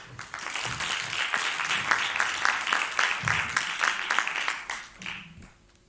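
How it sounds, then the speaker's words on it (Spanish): An audience at a Spiritist congress in Zaragoza gives a short round of applause before a talk, dense clapping that holds steady and then thins and fades out near the end. "Un pequeño aplauso."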